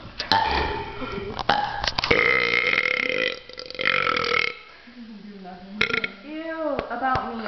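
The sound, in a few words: burping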